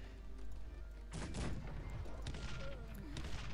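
Enemy gunfire in the Cossacks 3 strategy game, with musket volleys crackling in a dense, continuous burst that swells around the middle of the clip. A steady low rumble runs underneath, and no one speaks.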